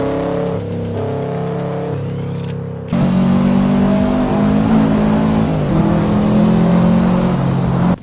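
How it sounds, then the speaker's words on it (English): Engine of a 400 hp Subaru WRX STI pulling hard uphill on the Lime Rock track, loud and close, revving through a gear change into a sustained, droning climb with no talking. "Here we are in the baby driver spec Subaru, and we're going uphill at the back of Lime Rock."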